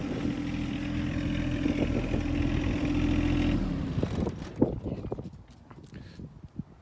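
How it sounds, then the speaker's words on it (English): A low engine on a John Deere 1025R tractor rumbles steadily for a few seconds, then cuts out, leaving scattered clunks and faint rattles as it winds down. "let me turn off the tractor"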